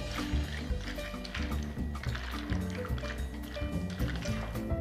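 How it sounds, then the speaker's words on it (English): 500 grams of pasta is stirred into simmering cream in a pot, giving continuous wet squelching and sloshing over a dense background with sustained tonal layers. "You're going to take all 500 grams, put it in. I'm just going to stir that all in."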